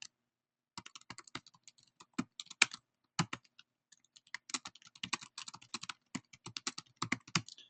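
Typing on a computer keyboard, quick irregular bursts of close, quiet key clicks with short pauses between runs of keystrokes, alone without speech.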